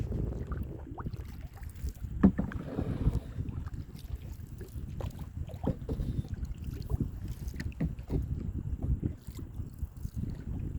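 A canoe is paddled across open water on a windy day. Faint strokes and splashes sound under steady buffeting wind noise on the microphone.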